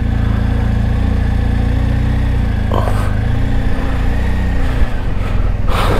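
A touring motorcycle's engine runs just after starting, a steady, close, low rumble that stays even throughout with only slight changes and no talking.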